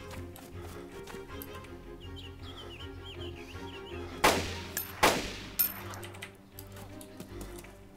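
Gunfire in the DayZ video game, heard as two sharp, loud shots a little under a second apart with a smaller crack after them, over a steady ambient game background.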